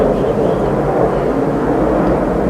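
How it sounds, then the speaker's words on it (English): A low, loud, steady rumble of an airplane passing overhead, continuous and unbroken throughout, with no talking. "Freaking plane is freaking annoying."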